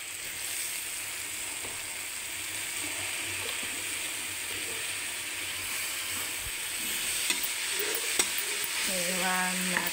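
Fenugreek leaves stir-frying in a pan for a vegetable pulao, a steady loud sizzle with occasional scraping clicks of a spatula, and faint background noises near the end.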